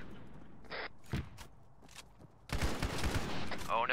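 Gunfire aimed at a landing craft in a battle operation: a few scattered bursts of shots early, then a dense, loud fusillade of rapid overlapping shots, with voices faintly mixed in.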